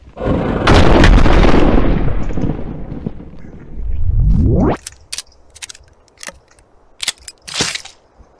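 A shotgun fires in the Skinwalker Hunt horror game, opening with a loud, heavy blast that rolls off into a long low rumble, followed by a rising whoosh and a scatter of sharp, brief clicks and knocks.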